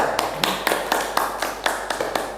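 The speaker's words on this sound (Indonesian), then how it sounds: "tepuk tangan untuk kelompok 3" A classroom of students claps for a presenting group in an even, rhythmic unison beat of sharp strokes, about four per second, close and steady over a bright background of room noise.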